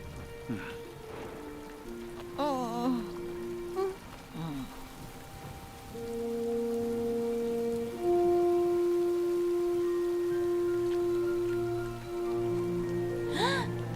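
Steady rain in the mountains hisses throughout while people talk over it, with a few sustained tonal sounds in the background.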